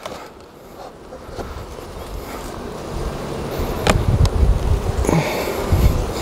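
Honeybees buzz in an opened spring beehive, a dense, steady hum that swells gradually louder, with a few brief handling knocks and rustles close by and no talking.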